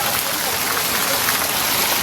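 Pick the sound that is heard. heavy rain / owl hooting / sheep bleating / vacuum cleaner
heavy rain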